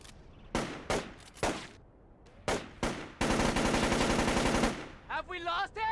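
Gunfire in the stealth shooter Splinter Cell: Chaos Theory: several sharp single shots, then a sustained rapid automatic burst for over a second, followed by brief clattering noises.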